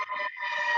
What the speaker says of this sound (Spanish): hay ambulancia